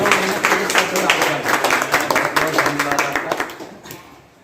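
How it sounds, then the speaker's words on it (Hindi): An audience claps together in a steady run of dense, loud applause that holds for several seconds before thinning out at the end, heard close with no talking. "सब लोग तो ये ताली बजाइए"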